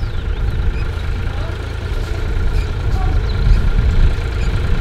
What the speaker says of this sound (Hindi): वहाँ पे हमारा ट्रैक्टर अभी रामा चला रहा है।